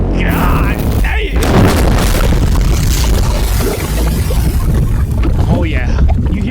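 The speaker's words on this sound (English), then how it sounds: "You hear the lava sound is" Burst Element anime sound effect with a lava quality: a dense, loud, continuous roaring wash with booming low rumble and crackling bursts, under excited voices reacting.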